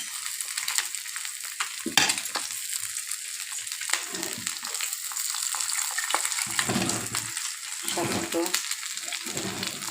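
An egg fries in a pan with a steady, close sizzle running the whole way, broken by occasional clatters and scraping as it is spread and stirred.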